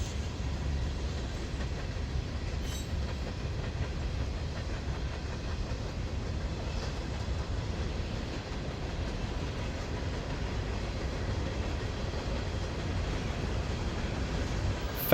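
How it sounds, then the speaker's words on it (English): Norfolk Southern EMD SD70ACE heritage locomotive 1065, in Savannah and Atlanta Railway paint, rolling past with a steady, dense rumble of wheels and cars that stays loud and even from start to finish. "train was NS 1065, the EMD SD70 ACE."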